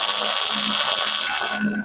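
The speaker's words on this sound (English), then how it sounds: "All right, so now shut the welder off. That's just tack welded" Stick welder tack welding steel for a homemade metal smoker, a steady loud crackling buzz of the arc holding through nearly two seconds and dipping slightly at the end.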